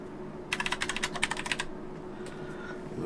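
Rapid typing on a custom mechanical keyboard with Cherry MX Brown switches: a quick burst of about a dozen crisp, close clicks lasting around a second, then two or three faint stray keystrokes over a low background hum.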